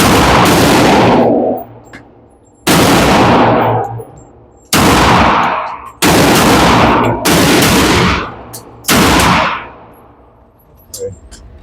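A Tisas 1911 pistol fires at an outdoor shooting range, with six loud, sharp reports spaced roughly two seconds apart, each trailing into a long echoing decay.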